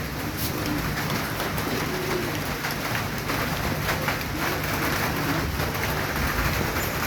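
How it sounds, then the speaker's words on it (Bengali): The season's first rain begins in a Bangladeshi village, a steady broadband patter of drops on surfaces with faint bird calls in the background. "বৃষ্টি যে নামটা আছে, ফোটা পড়া শুরু হইল"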